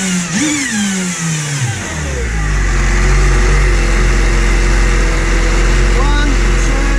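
A Kawasaki Ultra 310/300 jet ski engine cranks, catches and revs a few times, then settles into a loud, steady roar close by.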